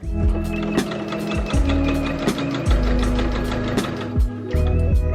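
Sewing machine stitching a rolled hem on a bustier dress, a steady close mechanical whir with needle chatter that pauses briefly and restarts several times, loud and without talk.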